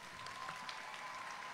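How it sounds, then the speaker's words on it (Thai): Steady, dense applause from a concert audience at a grand concert, a continuous broadband wash of clapping heard from a distance at fairly low level with no voices over it. "ขอเสียงปรบมือดังๆหน่อยได้ไหมคะ"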